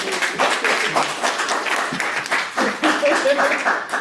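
An audience at a live storytelling show claps and applauds in a moderate, scattered burst that swells and fades, with some voices mixed in.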